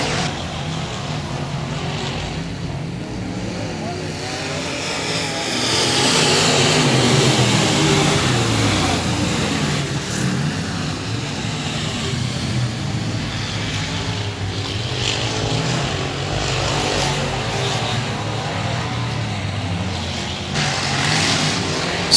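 A race car at 281 Speedway roars down the backstretch, a loud, continuous engine drone with rising and falling pitch as it passes, a noisy texture throughout and no talking.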